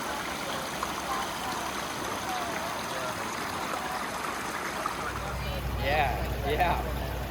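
A creek runs in a steady, moderately close babble and trickle that carries through the whole clip, while a voice speaks over it near the end.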